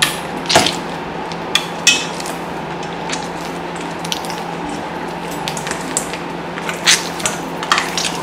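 Water being added to a Jamaican festival dough mix and worked in by hand, heard as soft, sparse wet squishes and light taps against a steady quiet background, close and gentle.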